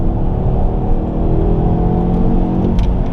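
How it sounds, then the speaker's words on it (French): A 2007 Ford Focus ST with a turbocharged five-cylinder engine pulls hard under acceleration, a steady loud rumbling drone with a rising warble, heard from inside without talk. "La sonorité du 5 cylindres, c'est assez fun."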